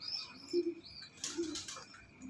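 A racing pigeon gives a couple of soft, low coos in quick succession, fairly close and quiet, with faint chirps and light background noise around them.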